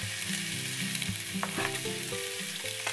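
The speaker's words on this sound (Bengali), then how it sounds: "তেলটা হালকা গরম হলে এর মধ্যে চিংড়ি দিয়ে সাথে একটু স্বাদ অনুযায়ী লবণ দিয়ে একটু নেড়ে চেড়ে চিংড়িগুলোকে ভেজে নিচ্ছি।" Shrimp frying in extra virgin olive oil with a little salt, crackling steadily while a spatula stirs and scrapes in short, close strokes, with no voices.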